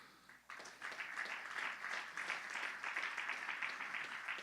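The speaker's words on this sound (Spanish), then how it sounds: "Un aplauso al Señor." A church congregation claps after a pastor's call during a Spanish-language service, with even applause beginning suddenly and holding steady at a moderate, slightly distant level.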